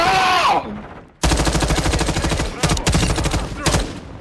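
Loud bursts of automatic gunfire in the video game Call of Duty Modern Warfare 2, rapid close shots in several strings with brief gaps, following a short moment of other game sound.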